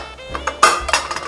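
Metal whistle weight set onto a pressure cooker lid while rasgulla sweets cook, giving a few short close clinks and taps of metal on metal.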